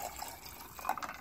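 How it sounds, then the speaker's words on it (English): Blueberry margarita pours over ice in a glass, a soft, brief liquid splash with a faint crackle, close and quiet, with no talk. "I'm just going to pour this over the ice."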